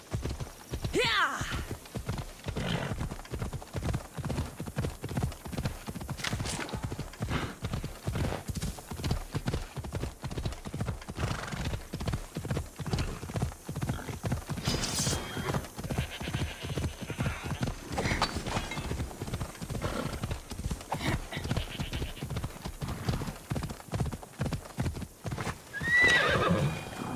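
A horse gallops under its rider in Assassin's Creed Odyssey, with a steady rhythmic run of hoofbeats throughout, a few neighs and whinnies, and voices speaking over the ride.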